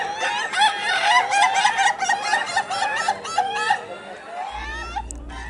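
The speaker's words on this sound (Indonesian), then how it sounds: "Kontes ayam ketawa ini diikuti ratusan ayam yang beradu kebolehan mengeluarkan suara ketawa mirip manusia." Laughing chickens (ayam ketawa) at a contest, calling in long rapid stuttering cackles that rise and fall like human laughter, several overlapping and fairly close, ending in a low steady hum.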